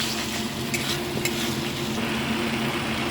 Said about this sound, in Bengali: একটু ভাজা হোক মশলাটা